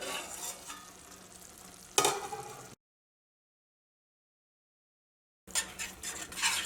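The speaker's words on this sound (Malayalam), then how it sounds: "ഇനി കറി ഒന്ന് ഇളക്കിയിട്ട് കൊടുക്കുക." Potato curry in a pan gives a sizzling, scraping sound as it is stirred, a loud stroke standing out, then a stretch of complete silence before the stirring resumes.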